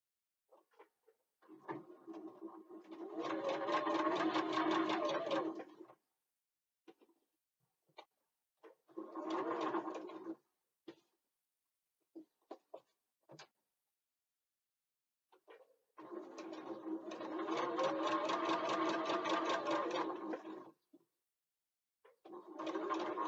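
Domestic sewing machine basting fabric ends with a long stitch length, two sustained runs of rapid mechanical stitching separated by short taps and handling noises, heard close and alone.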